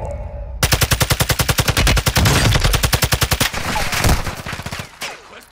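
Loud, rapid automatic gunfire in Call of Duty: Modern Warfare II, a long burst of evenly spaced shots close up, followed by a shorter ragged volley that fades out, with no talk over it.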